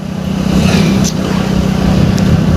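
A car or motorbike engine hums steadily and close by while being driven near Gangrel, holding a constant low drone with no clear revving.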